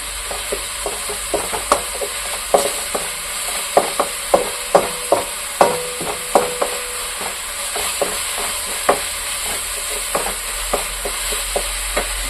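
Chicken curry ingredients frying in a pan for Tamil chicken kulambu, a steady sizzle under repeated clinks and scrapes of a spoon stirring, close and fairly loud, with no talking.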